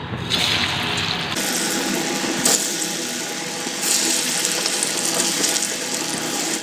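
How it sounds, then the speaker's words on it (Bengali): Dhoka pieces dropped one at a time into hot oil in a wok, a loud steady crackling sizzle with bursts that swell as each new piece goes in. "তেল গরম হয়ে গেছে তো তেলে এইভাবে একটা করে ছেড়ে দেবো"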